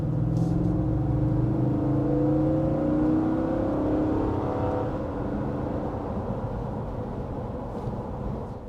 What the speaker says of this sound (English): Gotta love that nice burly V8 sound